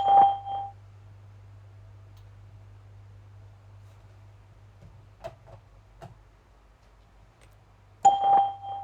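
Skype's call testing service sounds a short electronic beep at the start, then near-silence with a faint hum and a few soft clicks, before a second matching beep near the end.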